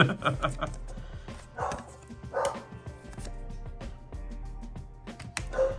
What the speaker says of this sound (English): one of my dogs barking in the background